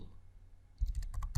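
Computer keyboard keys clacking as a command is typed in, a quick burst of several close, crisp clicks after a short quiet pause, with no talking.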